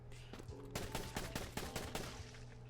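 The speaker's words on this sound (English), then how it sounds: "But just this little explosion" A small explosion in the video game Doc's Deathmatch bursts out as gold bone pieces scatter, giving a quick run of sharp, crackling pops that are faint and dense, with no talk.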